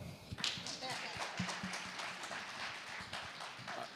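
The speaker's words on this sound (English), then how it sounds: "Clap it up." Audience clapping at a Diversitech 2026 entrepreneurship panel, a short burst of claps with scattered sharp hits, moderately near, mixed with talking voices.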